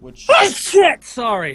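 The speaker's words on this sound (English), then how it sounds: "That was a sneeze." A single sharp sneeze bursts out close by during a tabletop Dungeons & Dragons session, followed at once by a quick spoken apology.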